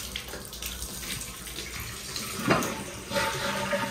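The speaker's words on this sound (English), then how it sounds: "It's not the best, but the shower is working." A bathroom shower runs in an aging house interior, a steady hiss of spraying water throughout with a brief louder splash partway through, no talking.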